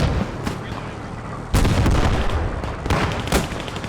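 A grenade goes off in a multiplayer video game match, sharp loud booms and gunfire-like blasts cutting through a dense, noisy battle ambience with faint background chatter.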